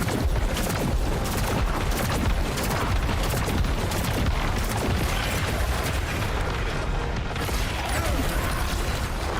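Purge Blast explosions from the video game Saros: dense, continuous rumbling barrage of booming blasts and mechanical clatter, loud and sustained throughout with no pauses.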